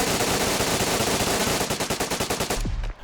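MP5 submachine gun in DayZ firing full auto, a fast, loud, dense burst of rapid shots lasting over two seconds, the individual reports growing distinct before it stops with a brief low thud and fade.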